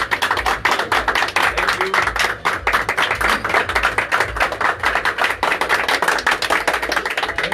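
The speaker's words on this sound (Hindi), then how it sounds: "एक बार जोरदार ताली बजा दिया जाए।" Loud, dense applause from a party crowd, many hands clapping continuously and close by without a break.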